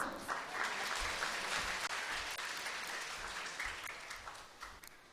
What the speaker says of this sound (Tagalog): bigyan po natin ng palakpak ang atin pong conference minister, si CM Noni Aviso.